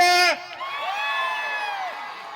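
A crowd of Harne residents at a Govinda festival event cheering, with a short loud shout that fades into sustained, somewhat distant whooping and calling.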